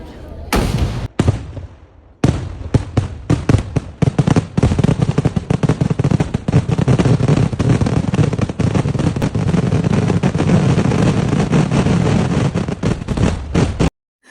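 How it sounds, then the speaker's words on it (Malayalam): Festival fireworks during Perunnal celebrations: a few loud opening bangs, a brief pause, then a long, relentless barrage of rapid cracking explosions, close and very loud, continuing until an abrupt stop. "നമ്മുടെ വെടിക്കെട്ട് സ്റ്റാർട്ട് ചെയ്തിട്ടുണ്ട് കേട്ടോ."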